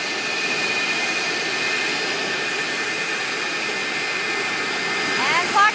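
A large passenger jet taxis toward the listener at O'Hare, its steady whining engine roar and high tones holding loud and even throughout, with a voice speaking over the noise.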